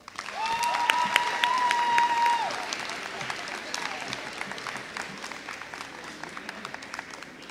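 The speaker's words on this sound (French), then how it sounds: "Veuillez s'il vous plaît les applaudir encore une fois." Applause fills a hall at a grade 12 graduation ceremony, a dense crowd clapping loudly at first and gradually thinning out, with a brief voice over the start.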